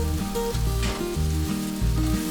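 Ginger garlic paste frying in hot oil for mutton pulao, a steady close sizzle with light stirring, over a low tonal hum.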